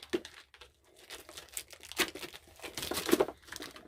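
Crinkling and tearing of packaging material, a steady run of rustles and rips at close range, with no one speaking.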